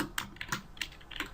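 Keystrokes on a computer keyboard while Java code is typed: a quick, uneven run of about half a dozen close, crisp clicks and taps with no voice over them.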